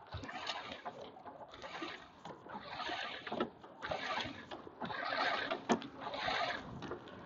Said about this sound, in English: I'm just simply going to sky the halyard